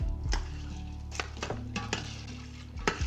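Beans and liquid stirred in a large Instant Pot, a utensil scraping and knocking against the metal insert in irregular clinks, close and fairly quiet with no talk.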